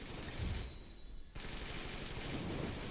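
Teammates' rapid gunfire in the Wanted: Dead video game, a steady dense crackle of shooting that briefly drops away mid-clip before resuming at full intensity.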